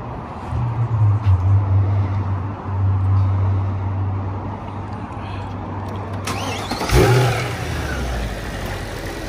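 A supercharged Mercedes C63 AMG engine runs close by with a steady low drone and a sustained whine, then shifts near the end as a burst of higher noise rises over it.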